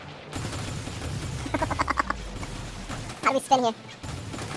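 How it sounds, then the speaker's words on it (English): Gunfire strikes a ship in Star Citizen 2.4 in two rapid rattling bursts, the second louder and sharper, while players talk over the action. "We're getting shot up."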